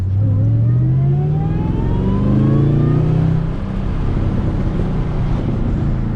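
A 2013 Chevrolet Camaro ZL1 muscle car accelerates hard, its engine and supercharger whine climbing steadily in pitch through the gears, loud and close, then settling into a steady drone.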